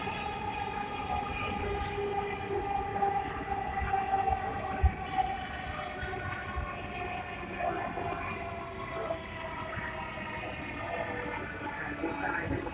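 A Dhaka metro rail train bound for Motijheel running with a steady rumble and rolling rail noise, interior and continuous, with tonal whine layered on top.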